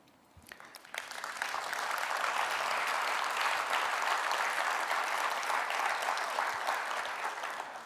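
Conference audience at the LGA Conference 2022 breaks into loud, sustained applause that swells within a second and holds steady as a dense wash of clapping for several seconds.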